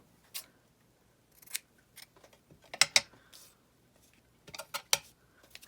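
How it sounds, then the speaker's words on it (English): Scissors trim paper for a junk journal page in a handful of crisp, close snips, scattered irregularly with short quiet gaps between them. "I might trim this down a teensy bit."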